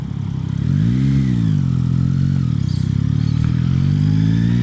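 A 2024 Yamaha MT-09 motorcycle's engine and exhaust rumble loud and close, revs rising and falling in smooth sweeps under an airbox intake growl, with no talk.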